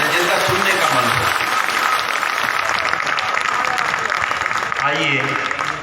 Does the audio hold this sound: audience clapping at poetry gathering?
yes